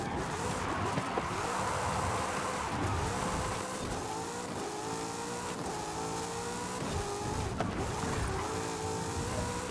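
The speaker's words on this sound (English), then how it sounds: "We've actually got this S1900 Trans Am I'm driving at the moment," S1900-class Trans Am race car in Forza Horizon 5 on a raceway road course, engine droning loudly and continuously with repeated rising revs and gear changes, no talk over it.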